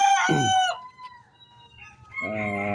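A native rooster crows nearby, one loud cock-a-doodle-doo that ends in a drawn-out tail, then a short quiet gap before a second crow begins.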